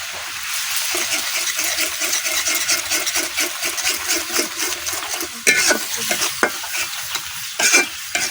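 Ground spices with turmeric, chili, coriander powder and salt being stir-fried in oil in a village kitchen, with rapid, rhythmic spoon scraping over a loud sizzle and a few sharper clanks near the end, close and without talk.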